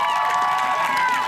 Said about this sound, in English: Can we just give another round of applause for Cameron, please?